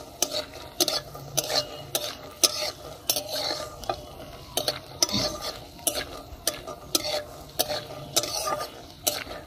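Peanuts frying and being stirred in a pan, giving rhythmic scraping and clinking strokes of a utensil against the metal, close and steady throughout.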